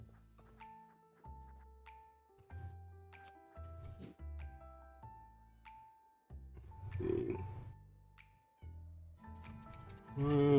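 Cats meow repeatedly in the video game Wolfstride, several distinct meows spaced across the span with short gaps, layered over soft game music and ending in a louder burst.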